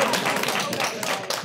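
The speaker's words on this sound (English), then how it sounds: "I know I got a Brazilian clapping for me" One person clapping during a talk on psychedelic science, a quick run of close, sharp hand claps with a few scattered taps, lively and brief, no voices over it.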